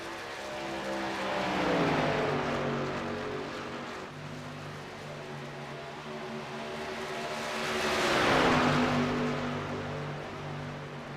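Race truck engines roar in a sim racing game at Indianapolis Motor Speedway, two loud passes rising and falling in pitch as trucks sweep by, with a steady engine drone between them.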